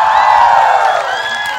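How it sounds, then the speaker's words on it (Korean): A studio audience at a Korean youth variety show cheers and applauds after two students shake hands, a bright, dense crowd roar with whoops, loud and sustained throughout. "박수!"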